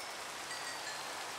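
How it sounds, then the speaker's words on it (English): Steady broadband rain hiss in Minecraft, a soft even wash of falling rain with no distinct drops or talk, holding at a constant level throughout. "I think it just takes a second to realize that it's raining."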